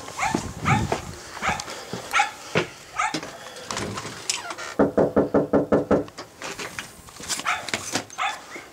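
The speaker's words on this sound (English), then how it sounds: "I'm gonna go knock on Alexa's door now." Sharp knocks land on a door, first scattered then in a quick run of about seven raps, with dogs barking nearby.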